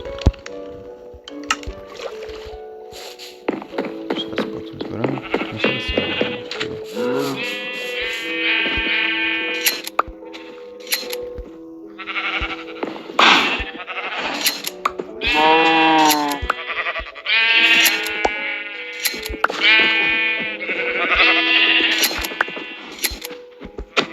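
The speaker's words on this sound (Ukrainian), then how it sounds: "Так, відразу беремо сюди ножниці. Настережемо зараз овець і зробимо декілька лінок." Blocky Minecraft sheep bleat again and again while being sheared with shears on a farm, the loud wavering cries coming one after another over about twenty seconds, mixed with soft clicks and squishy game effects.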